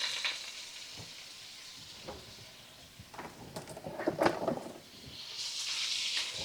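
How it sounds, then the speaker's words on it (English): Onions browning in a pan for country-style cubed steak and onion gravy give a soft, steady sizzle with scattered crackles and stirring scrapes, swelling into louder hissing near the end. "we're going to brown these onions and get them all real happy"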